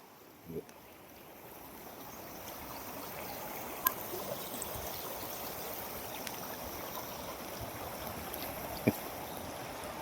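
A large flooded stream rushing in spate, a steady broad roar of water that builds and then holds for the whole stretch, heard from nearby with a few faint knocks and no talk.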